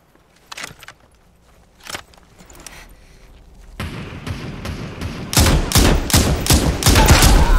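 Gunfire in the battle-royale game PUBG: scattered single shots at first, then dense rapid volleys that grow steadily louder and closer, with no talk over them.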